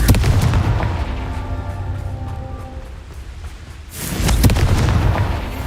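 Confringo blast spell in Hogwarts Legacy, a loud rumbling explosion with ringing tonal overtones fading, then a second heavy burst swelling near the end.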